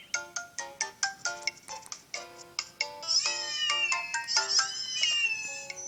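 Cats and a dog in a kennel in the Nintendo video game Nintendogs + Cats: a quick run of short, tonal meows, then a denser, continuous stretch of overlapping cries and chirps, close and fairly loud.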